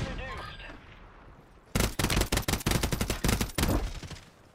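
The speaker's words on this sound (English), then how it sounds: "They gave us cover fire" Rapid bursts of automatic gunfire in the shooter game Warzone 3 erupt after a quiet opening, loud cracking volleys repeating for a couple of seconds and then cutting off.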